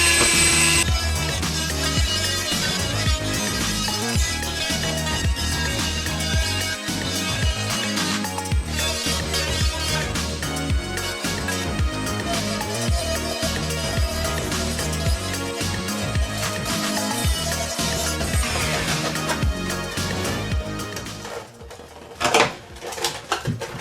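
A power tool trims a plastic screen-accurate Stormtrooper helmet at the face, back and cap, giving a loud, continuous grinding whine with rattling workpiece noise that runs steadily for about twenty seconds before sputtering and stopping near the end.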